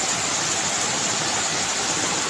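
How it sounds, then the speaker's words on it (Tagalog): Strong floodwater rushing after heavy rain, a dense, loud, continuous roar of turbulent water that holds steady and close with no pauses or voices. "Kusog kayong baha mga madi."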